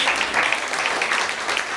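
A short burst of applause from a church congregation during preaching, many hands clapping steadily throughout, fairly loud with no clear talk.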